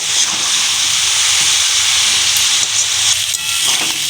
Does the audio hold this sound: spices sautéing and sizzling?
yes